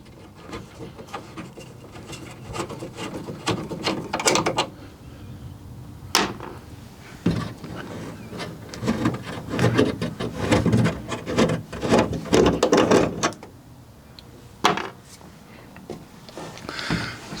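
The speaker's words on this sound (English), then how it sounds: "I'm using a 1/4 inch Whitworth spanner. So let's just take these off now." Steel door bolts on a Rover P4 being undone with a 1/4 inch Whitworth spanner, giving close, irregular bursts of metallic scraping, ratcheting and rubbing scattered through the stretch, with brief pauses and no talk.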